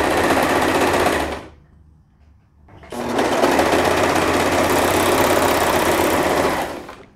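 A sewing machine stitches a knit pajama sleeve in two loud, steady runs, stopping briefly for about a second and a half before whirring on again, close and alone.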